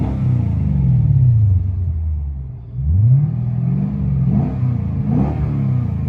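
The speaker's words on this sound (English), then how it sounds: "Giant 5-liter V8." A stock Lexus IS F with its giant 5-liter V8 and a muffler delete revs hard, a loud, deep rumbling exhaust rising and falling in repeated swells, with a brief dip before another sharp climb.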